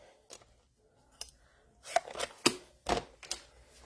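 Scissors snip through small scraps of paper at a craft desk, a few crisp cuts spaced apart with a cluster of sharper snips near the end, close and fairly quiet.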